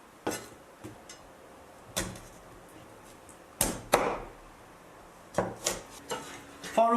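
Sharp knife chops on a board while a flat fish is cut in half, several distinct thwacks spread irregularly, the strikes crisp and close with quiet scraping between.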